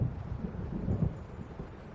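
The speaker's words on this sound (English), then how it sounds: "It seems there's a storm coming." Low rumbling thunder rolls beneath steady rain in Alan Wake Remastered, a dull continuous storm growl with a slight swell near the middle, no voices present.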